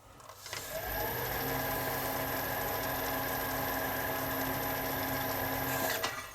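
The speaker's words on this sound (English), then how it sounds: "when the clutch is engaged. And it seems to work very fine." A Myford ML7 metal lathe runs with its clutch engaged, a steady close mechanical whir with a constant whine that starts up, holds evenly and then winds down.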